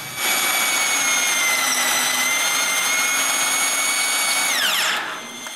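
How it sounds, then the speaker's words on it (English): A power drill whines steadily at high speed for about five seconds while boring an off-center caster hole into a wooden workbench, then winds down quickly as it stops. "So I drill this one off-centered."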